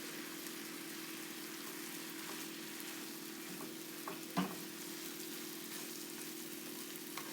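Hamburger meat frying in a pan gives a faint, even sizzle over a steady low hum, with one sharp knock partway through and no talking.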